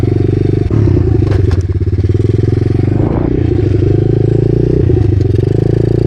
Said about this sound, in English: I'll be doing a little pit bike adventure today after I get it warmed up.